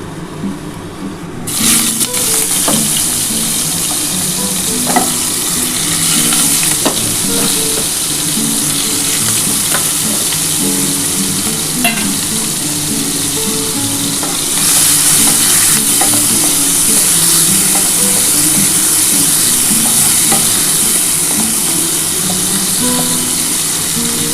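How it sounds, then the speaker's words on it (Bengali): Prawns fry in hot oil with a loud, continuous sizzle and crackle close by, occasional utensil taps against the pan, and the hiss swelling brighter partway through. "আমার তেলটা গরম হয়ে গেছে আমি এবার চিংড়ি মাছটা ভেজে নিই"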